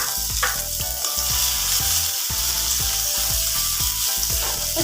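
Garlic fries in hot oil with leafy greens, a loud continuous sizzle and crackle, with repeated clinks and scrapes of stirring throughout.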